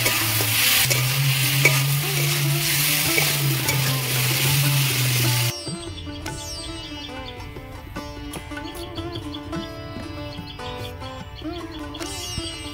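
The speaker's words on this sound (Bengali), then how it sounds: "এবার ভালো করে কষিয়ে নেব" Masala for katla fish and cauliflower-potato curry sautéed and stirred in a hot pan, a loud hissing sizzle with scraping strokes for about five seconds, then cut to a quieter scene with faint birdsong and light clinks.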